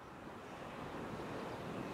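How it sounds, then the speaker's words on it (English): Soft, steady wash of surf rolling onto a beach, faint and continuous, with a gentle swell toward the end. "We hear it again, the breaking of surf on sand."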